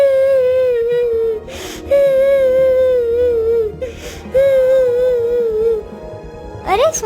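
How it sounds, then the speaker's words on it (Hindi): A person whimpers and sobs in a forest in a cartoon story, wavering wails repeating in three long phrases with brief breaths between, loud and close. "ये रोने की आवाज किसकी है?"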